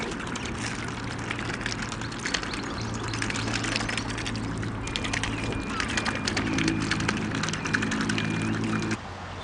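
Rain falling on a boat on the River Severn, a dense steady patter of drops with a low hum beneath, continuous and close throughout.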